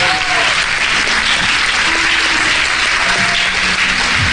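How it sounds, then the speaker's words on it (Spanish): A church congregation applauds loudly for the Lord, a dense steady wash of clapping that holds at full strength through the whole stretch with no speech over it. "Denle un fuerte aplauso al Señor."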